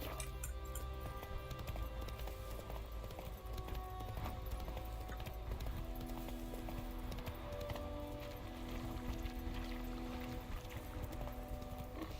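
Roach the horse galloping in The Witcher 3, rapid rhythmic hoofbeats over a constant bed of game ambience and music throughout.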